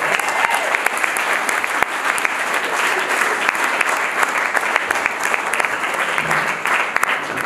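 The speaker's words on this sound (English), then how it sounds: "let's have a round of applause for our guests tonight" Loud, sustained audience applause for guests on stage at an evening community event, dense clapping from a crowd with sharp individual claps standing out, continuing steadily without a break.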